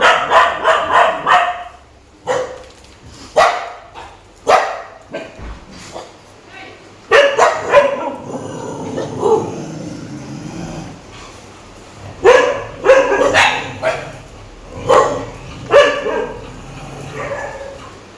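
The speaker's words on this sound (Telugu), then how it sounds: "బయట ఎవరో డాగ్ అరిచింది" Dogs barking outside in repeated bursts of sharp, loud barks with short pauses between, mixed with occasional yips and whimpers while people talk over parts of it.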